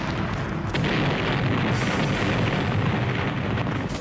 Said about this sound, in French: la nuit venue, les tirs se déchaînent